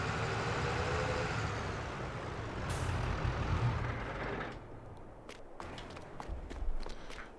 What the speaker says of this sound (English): Now we can park the JCB.